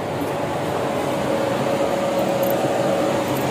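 A newly bought air cooler runs with a steady, even whir and hum of its fan, continuous and moderately loud with a faint tonal whine, heard close up without anyone talking.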